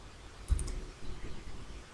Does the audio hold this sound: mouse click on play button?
yes